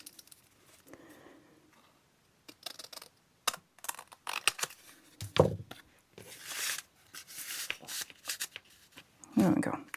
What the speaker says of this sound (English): so I'm going to cut it a little bit